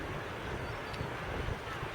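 Wind buffets the microphone in a steady, loud, low rumble on a hot, very windy day by a seawall on the coast, with no other sound standing out.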